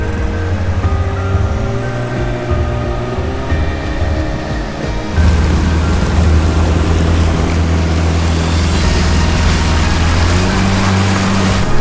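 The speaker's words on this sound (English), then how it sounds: "we're going to get on that big boat" A motorboat running on open water, its engine a steady loud drone that steps up sharply about five seconds in as the boat speeds up, with rushing water and wind over the hull and no talk.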